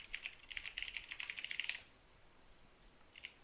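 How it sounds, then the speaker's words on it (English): Rapid clicking keystrokes on a computer keyboard for under two seconds, quiet and close, then near silence and a few final taps. "I just normally type this"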